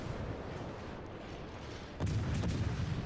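Ship guns firing in a World of Warships ranked battle, a steady low rumble of distant naval gunfire that swells into a louder, heavier volley of booms near the end.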